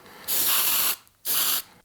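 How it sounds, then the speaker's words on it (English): Two hissing bursts from an aerosol spray can aimed at polystyrene foam, one long and one short, separated by a brief pause. "the thing about polystyrene foam is when you spray it"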